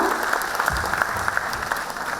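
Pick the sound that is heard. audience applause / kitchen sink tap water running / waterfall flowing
audience applause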